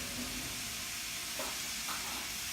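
Food sizzling in a pan on a stovetop, a steady, soft frying hiss that runs throughout with faint stirring touches and no talking.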